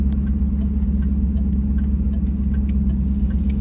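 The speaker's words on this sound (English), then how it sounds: "I'm going to turn the right turn signal on" A 2002 Pontiac Trans Am convertible's right turn signal ticks in a steady, even rhythm over the low, constant rumble of the idling engine.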